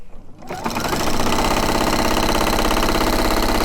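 A sewing machine starts up and runs at speed stitching quilt binding with a decorative stitch, a loud, fast, even mechanical chatter close by.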